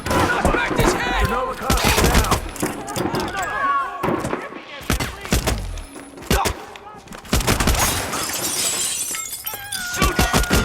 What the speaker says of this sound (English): Someone's been discharging a weapon.